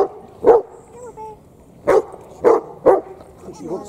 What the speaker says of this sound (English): Don't be barking